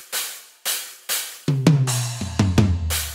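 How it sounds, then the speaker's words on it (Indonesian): Stack cymbal voice played on an electronic drum kit: a few sharp, trashy crashes with short decays, followed by hits that ring under a low sustained tone, close and fairly loud. "Terus ini suara stack cymbal."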